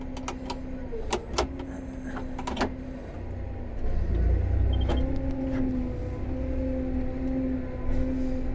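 A big John Deere tractor engine idles at low throttle in a field, a steady low rumble with clicks and rattles over it, and the drone swells a little midway.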